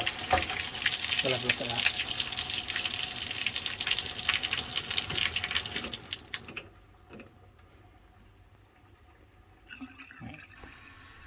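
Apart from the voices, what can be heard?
water running and draining from sink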